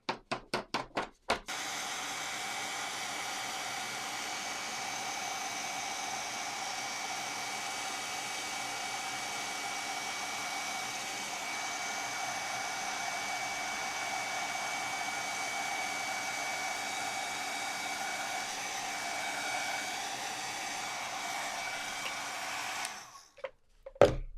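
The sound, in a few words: heat tool blowing to melt embossing powder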